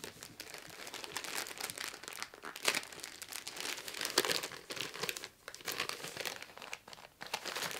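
Gift wrapping paper crumpled and crinkled up close while a Christmas parcel is unwrapped, a steady crackly rustle with sharper bursts throughout and no talking.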